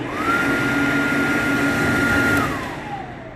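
A steady electric hand dryer in a clinic in Naples whirs loudly for about two seconds with a high whine, then winds down and fades.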